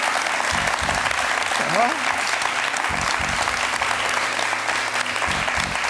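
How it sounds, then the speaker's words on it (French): Theatre audience claps steadily after a stage hypnosis demonstration, dense and sustained, with a few brief spoken words from the stage over the applause. "On peut l'applaudir"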